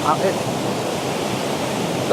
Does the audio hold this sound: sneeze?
no